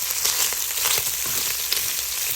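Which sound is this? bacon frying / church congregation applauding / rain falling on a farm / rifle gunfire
bacon frying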